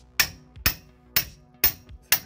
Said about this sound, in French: je mets avec le marteau